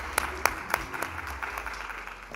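Faint applause greets a panelist at a public finance conference. A few sharp claps stand out at the start, then a thin, soft patter of clapping continues at a distance.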